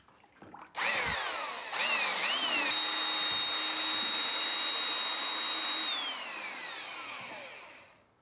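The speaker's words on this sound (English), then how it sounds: "so I got my big right angle drill" A large right-angle power drill spins up with a short burst, then revs again and runs steadily at high speed with a whining pitch before winding down at the end.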